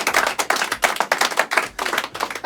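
Close, distinct hand claps in a television studio, each one sharp, coming in a quick, uneven rhythm like a small group clapping, with no talk over them.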